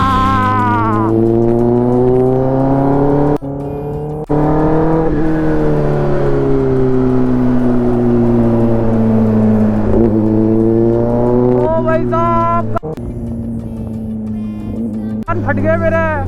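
A Kawasaki ZX10R motorcycle with a crazy-loud exhaust is ridden, its engine holding a steady, close droning roar with gently rising and falling revs and a few brief dips.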